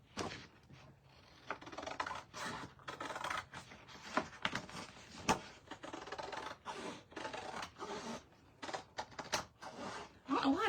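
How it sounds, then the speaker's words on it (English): Scissors snip through paper for a handmade mini album, a rapid series of close, crisp cuts and rustles with short pauses between bursts. "So I'm just cutting a 1/2 inch off. I'm using my scissors."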